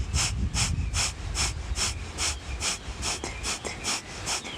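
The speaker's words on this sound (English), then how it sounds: "Here we're going to activate the breath of fire." Rapid breath of fire yoga panting through the nose, about a dozen sharp, evenly spaced forceful exhales heard close and loud, alone.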